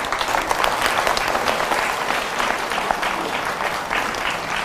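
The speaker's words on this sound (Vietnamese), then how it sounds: "Thôi thì đại chúng cho ông tràng pháo tay để mừng" A congregation at a Buddhist temple dharma talk claps to mark a nun's seventieth birthday, a dense and steady round of applause from the crowd throughout.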